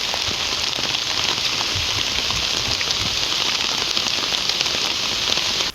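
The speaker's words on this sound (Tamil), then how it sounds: "அங்கனூர், ஜெயங்கொண்டம் உள்ளிட்ட பகுதிகளில் மிதமான மழை பெய்தது" Moderate rain falls over the Anganur and Jayankondam area of Tamil Nadu, a steady, dense hiss of drops that runs unbroken from start to finish with no voices.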